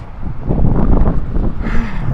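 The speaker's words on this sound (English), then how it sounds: "Just got really windy." Strong gusts of wind buffet the microphone with a loud, steady rumbling roar, no voices over it.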